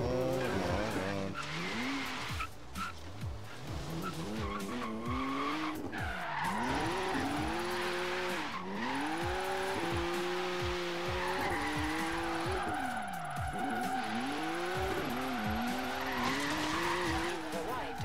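A BMW M2 drifting in Forza Horizon 3, tires squealing and skidding in long sweeping wails over a revving engine that rises and falls through repeated slides, with a voice talking over it.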